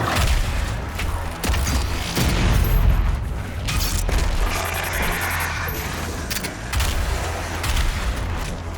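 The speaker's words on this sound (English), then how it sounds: "So now you can shoot off their missile packs." Gunfire in Doom Eternal aimed at a Revenant's missile packs, with loud booming shots and bursts in rapid succession, layered over mechanical clanks and rumbling game noise.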